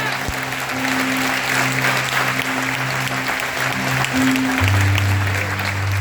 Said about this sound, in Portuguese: aplauda Ele o mais alto que você puder